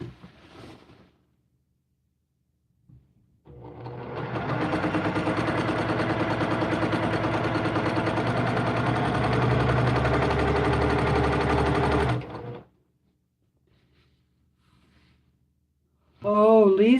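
A sewing machine runs steadily for several seconds while quilting a disappearing nine-patch from fat quarters, a loud continuous motor hum and whir with no talk over it, bracketed by short sounds before and after.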